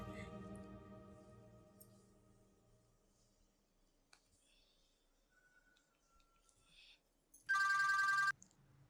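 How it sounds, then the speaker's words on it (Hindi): A phone rings with a short, loud electronic tone near the end while a call is placed in a Pakistani drama scene, after someone talks quietly and a stretch of near silence. "इमरान को फोन करती हूँ, क्या पता अननोन नंबर देखकर मेरा फोन उठा ले"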